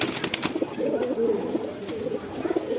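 Pigeons, mostly hens, cooing in a Hemayetpur loft: a few sharp clicks at first, then a steady bed of low, warbling coos from several nearby birds throughout.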